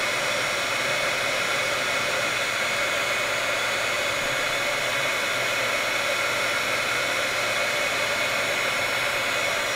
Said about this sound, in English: I'm just going to grab my heat tool and let it heat up a little bit